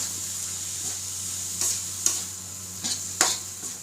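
Puffball mushrooms and pork stir-fry in a pan: a close, steady sizzle under a low hum, broken every second or so by louder spatula scrapes against the pan.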